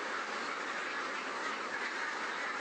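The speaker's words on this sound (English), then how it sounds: "Inside the broiler shed, there were dead and suffering ducks." Ducks quacking inside a broiler shed, a dense, steady wash of overlapping calls from many birds filling the space without pause.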